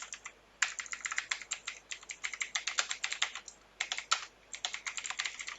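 Rapid keystrokes on a computer keyboard as search keywords are typed, a steady run of crisp, close clicks in bursts with brief pauses between them, and no voices.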